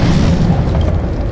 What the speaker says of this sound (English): To destroy that canister.